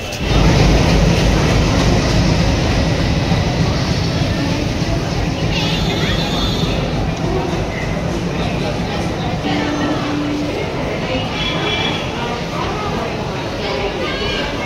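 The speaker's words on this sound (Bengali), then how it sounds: "ফাইনালি এখন সময় 7টা আর আমাদের ট্রেন ঢুকছে হাওড়া স্টেশনে" The Amritsar Mail pulls into Howrah station with a steady low rumble and rolling rail noise, loud and continuous throughout, while voices chatter on the busy platform.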